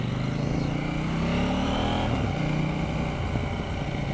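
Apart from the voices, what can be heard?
KTM 790 Duke motorcycle riding in rain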